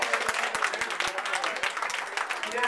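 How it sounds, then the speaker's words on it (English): Wedding guests at a Boston inn reception clap their hands together in a loud, fairly steady rhythm, with a few sharper individual claps standing out over the crowd. "Please clap your hands."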